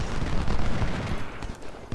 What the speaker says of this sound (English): Enemy fire is opening up again, but our own batteries are now also opening up